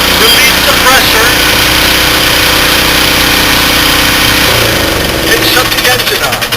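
The gas engine on a Graco Gmax airless paint sprayer runs loud and steady, a constant mechanical drone with a slight shift in tone near the end.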